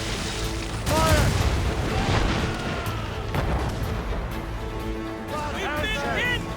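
Ship cannons firing in naval combat in Assassin's Creed Rogue, several deep booming blasts and rolling rumbles spread across the clip over battle noise, with shouted voices from the crew.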